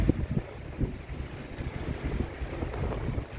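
A boat at sea off Siquijor rocks amid waves, with wind buffeting the microphone and low rumbling water slaps in an irregular rhythm, close and fairly loud.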